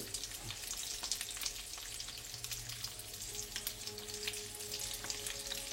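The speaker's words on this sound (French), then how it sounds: "Une fois que le fenouil chante, on rajoute une petite cuillère à café de miel." Fennel sizzles steadily in a hot pan, a dense close crackle with faint scraping and no voices.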